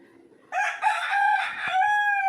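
A rooster crows loudly and close by, one long drawn-out call that holds and stretches to the end, with faint background noise before it.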